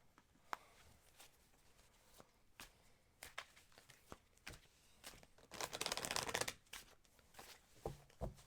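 Tarot cards being shuffled by hand, faint and close: a run of soft irregular snaps and riffles, with a denser rustling burst midway, no talk over it.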